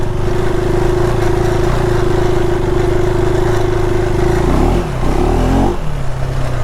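A KTM 390 Adventure R motorcycle holds a loud, steady high rev in deep backcountry snow with its rear wheel spinning. The engine note drops, wavers and surges near the end, then settles to a lower drone.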